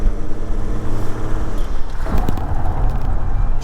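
An abandoned Volvo 740 with a D24T turbo diesel engine, an exhaust leak and a dragging brake, doing a skid: rough engine drone giving way to a loud, gritty tire scrub partway through, close and without talk.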